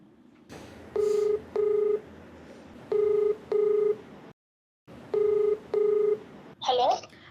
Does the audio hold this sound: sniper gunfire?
no